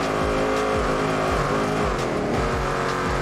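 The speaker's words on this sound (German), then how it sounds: "warum testen wir denn nicht mal hier so einen schönen Bugatti? Schauen wir mal. Ui, 16 Zylinder." A 16-cylinder Bugatti driven in a video game, its engine giving a loud, constant drone with repeated rising and falling revs as the car shifts and accelerates, with no voices over it.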